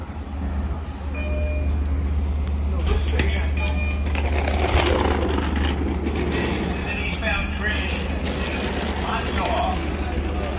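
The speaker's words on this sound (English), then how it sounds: "Train crosses train, and my train is coming." A train rolls into a station on a ride from Shirley to Jamaica Avenue in New York, a low continuous rumble with screeching and clanking rising over it, close and steady, while a person talks throughout.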